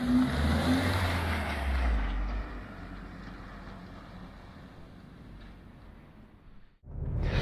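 A 2016 Kia Sportage 2.0 AWD drives around town, heard from inside as a steady engine and road drone that is louder for the first two seconds, then settles lower and dips briefly near the end, with no talking.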